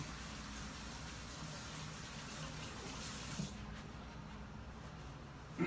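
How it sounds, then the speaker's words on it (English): Tap water runs steadily into a kitchen sink while hands are washed between steps of baking ribs. The broadband rush stays even for several seconds, then drops lower and softer, ending with a small clatter. "Let me get my hands washed real quick."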